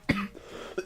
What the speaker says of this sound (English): You may hear a lot of coughing